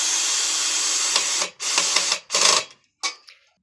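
Power drills and screwdrivers whirring during a DIY campervan conversion, a loud continuous motor run followed by shorter bursts that stop and start, close by with no talk.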